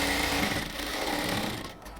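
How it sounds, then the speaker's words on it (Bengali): A sewing machine runs steadily while stitching a blouse, a close, continuous whirring hum with rapid needle chatter that slows and softens just before the end. "এদিকে আসার সময় আমরা একটু রাউন্ড করে তারপর এটাকে সেলাই করব"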